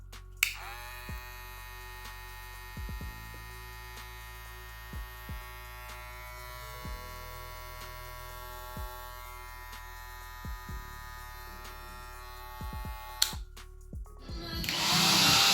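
A Trisan brushless hair clipper runs at a steady pitched electric buzz, close and constant for most of the span, with light clicks of handling over it before it cuts off near the end.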